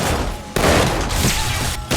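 Grenade explosions in 7 Days to Die come as a continuous rumbling barrage, loud and close, with two brief gaps between blasts.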